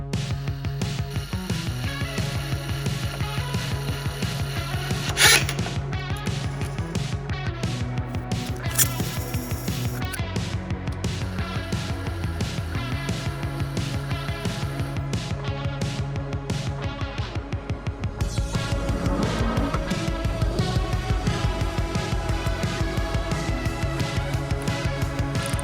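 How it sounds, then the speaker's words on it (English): An Atlas Copco high-speed torque test tool driving bolts at 650 RPM until they break, a steady mechanical whine and hum with sharp cracks near the start and a louder, denser stretch toward the end, with no talking. "We got to break some bolts."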